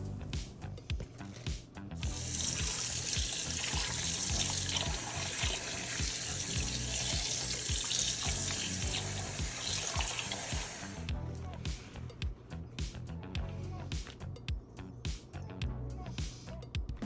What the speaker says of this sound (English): I have a couple of packages of neck bones that I'm going to give a good wash.